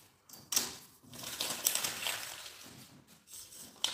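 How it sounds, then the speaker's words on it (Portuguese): Scissors snip through a fabric sewing pattern for a small zippered pouch, giving a few close, crisp cutting strokes and rustles of paper and cloth, with no talking. "aqui com a tesoura, eu corto a parte redondinha aqui da aba"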